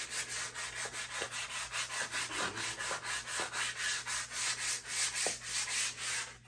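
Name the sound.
sanding down a wooden axe handle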